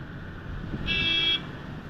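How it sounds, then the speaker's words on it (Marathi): A single short car horn honk sounds over a low rumble of traffic, loud and close, lasting about half a second, on a road toward Zoji La pass. "हॉर्न नको वाजू"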